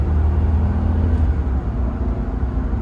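A supercharged Jaguar X308 engine heard from inside the car while driving, a steady low hum with a faint whine, moderately loud and continuous.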